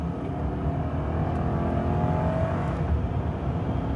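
A 1998 Toyota Celsior C-Type with a quiet V8 pulls at highway speed, a smooth low engine drone blended with road and wind noise that builds gently and holds steady inside the cabin.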